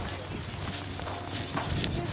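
Horse hooves clip-clop over ground at a show-jumping practice, a fairly even stepping rhythm heard at moderate distance beneath voices talking.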